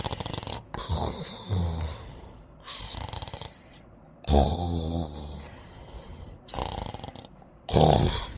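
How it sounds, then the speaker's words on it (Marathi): A man snoring loudly in repeated bursts: several heavy, rasping snores with breathy snorts between them, close and prominent, with no talking. "काय बापा कसा घोरते रे बाबा"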